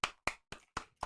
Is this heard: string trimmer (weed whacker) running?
no